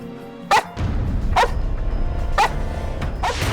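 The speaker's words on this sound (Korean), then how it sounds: "갑자기 벤이 멈춰서더니 허공을 향해 짖기 시작하는데" A dog on a bridge suddenly stops and barks into empty air, four sharp barks spaced about a second apart, clear and fairly close over a steady outdoor background rumble.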